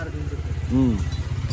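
A motorcycle engine runs nearby with a rapid, even low thump, steady for a brief moment while a voice briefly rises over it.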